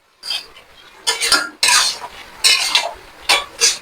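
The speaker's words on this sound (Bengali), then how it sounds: "এবার আমি লাউটা একটু নাড়াচাড়া দিয়ে নেবো" A metal spoon scraping and knocking against a cooking pot while bottle gourd is stirred, several separate bursts of clattering with short pauses between them, close and clear.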